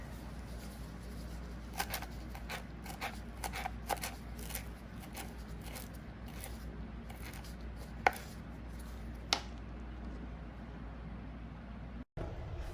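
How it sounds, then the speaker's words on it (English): A knife chops cilantro very small on a board, giving a run of quick, faint, irregular taps over a steady low hum, with a few sharper cuts standing out near the end. "So I usually chop it very small and use with the dundies or with the ends."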